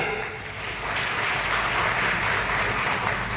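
An audience claps in sustained, dense applause at an outdoor inauguration event for a mobile medical van, a steady wash of many hands.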